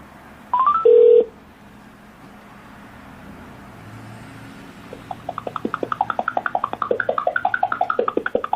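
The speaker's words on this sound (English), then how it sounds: "I'm going to dial 611. I'm going to call T-Mobile." A short burst of touch-tone dialing beeps for 611, heard through an iLuv Bluetooth speaker, a pause with faint background hum, then steady repeating ringback tone pulses begin and continue.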